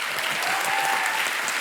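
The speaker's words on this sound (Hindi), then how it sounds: "जोरदार तालियां" Studio audience applause for guests on a Hindi television comedy talk show: dense, steady clapping from a large crowd that fills the whole stretch without a break.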